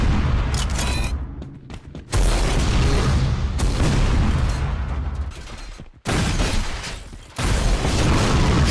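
Rocket explosions in Unreal Tournament, a dense run of booming blasts and roaring bursts with brief gaps, loud and continuous game action without voices.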